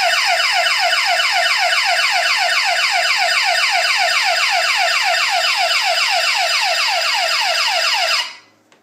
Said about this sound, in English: So I'll do a bell test.